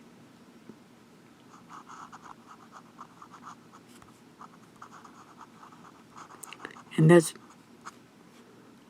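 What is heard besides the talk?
vintage Omas Milord fountain pen scratching on paper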